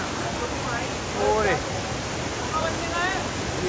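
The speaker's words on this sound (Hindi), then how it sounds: "गाइस यही वाला वाटरफॉल देख लो यहाँ पे" A waterfall in Manali during the off season roars as a steady broadband rush close by, with people talking over it in short bursts.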